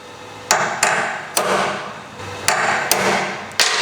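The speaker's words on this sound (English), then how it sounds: "I'm putting a little dimple center punch in there." Hammer blows striking a center punch to dimple a bolt on a trailer chain, six sharp metallic strikes at uneven intervals, close and loud, each followed by a brief ringing decay.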